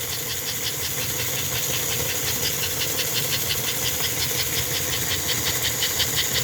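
A model train locomotive motor runs on the bench while its smoke unit hisses. A steady broadband hiss with a fast, fluttering mechanical whir underneath holds close and even for the whole stretch, and nobody speaks.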